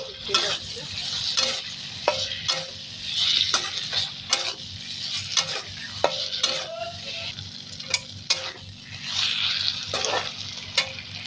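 Eggplant is added to a frying masoor lentil dish and stirred, with repeated sharp spoon scrapes and clanks against the pot over a continuous crackling sizzle, close by.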